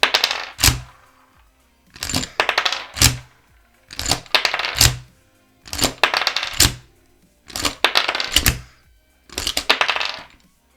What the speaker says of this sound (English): by pulling the bolt again, the charge will be ejected and another one will be inserted from the magazine